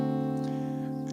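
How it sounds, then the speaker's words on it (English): A sustained D seventh chord rings steadily and evenly, a held harmonic tone at moderate volume with no attack or decay audible in the short excerpt. "but a D with a seventh in it sounds like this."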